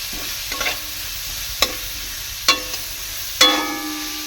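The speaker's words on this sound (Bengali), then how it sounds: "পেঁয়াজটা লাল লাল করে ভাজতে হবে" Onions fry in a pan until browned for a meat curry, with a low continuous sizzle punctuated by four or five distinct spatula scrapes and taps against the pan.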